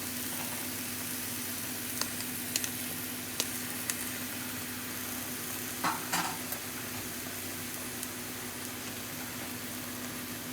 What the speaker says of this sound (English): You wanna go ahead and start browning your ground beef.